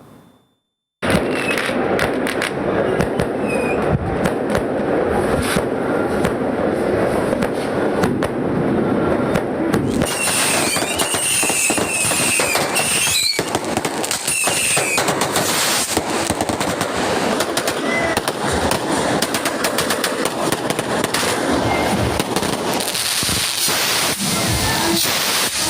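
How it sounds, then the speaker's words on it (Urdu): Fireworks crackle and pop continuously in dense, rapid bursts for a long stretch, with faint crowd noise and whistling audible underneath. "تقریب کے اختتام پر شاندار آتش بازی کا مظاہرہ کیا گیا۔"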